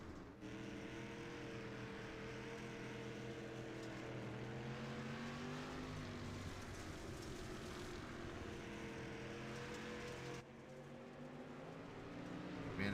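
Race cars on a short oval at Limaland Motorsports Park roar steadily at a distance, a dense blended engine drone that shifts in pitch as the cars circle.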